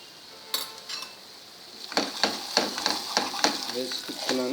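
Ginger garlic paste sizzles and fries with onions in a pan for Andhra prawns curry, with a steady hiss broken by a run of scraping stirs and light utensil clinks against the pan.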